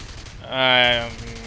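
Messerschmitt Bf-109G10 guns fire in War Thunder as one short, loud, buzzing burst of about half a second that rises and fades, with steady background noise around it.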